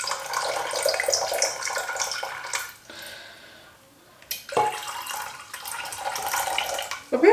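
Water poured from a container into a LECA pot holding a variegated Syngonium, a steady splashing trickle that pauses briefly midway then resumes, close and moderately loud.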